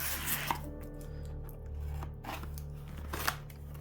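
Scissors cutting open the plastic packaging of a Planet of the Apes role-playing game box, close crisp snips and rustling in an irregular rhythm over a low steady hum.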